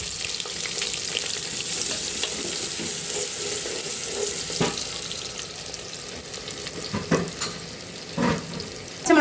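Chopped large onions go into hot ghee and oil with spices in a pan for Ramzan coconut milk rice, giving a steady close sizzle and hiss with occasional stirring clatters, and no voices.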